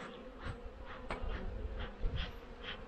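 Honeybees buzz around an open hive being smoked in Pennsylvania, a dense close drone with individual bees whining past again and again.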